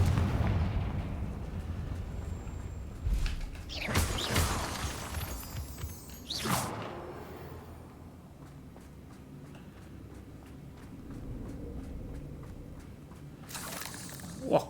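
Confringo blasting spells explode in the Hogwarts Legacy video game: several loud bursts and booms in sequence, with broadband crackle between them and a softer blast at the end, over a quiet ambient background.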